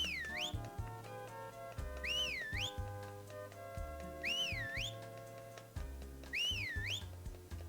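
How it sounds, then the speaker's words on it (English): A character whistles a short repeating tune in a Harvest Moon video game, four wavering phrases at steady intervals over continuous game music. "the only notes that I have to do during weather days is whistling, which I'm doing now"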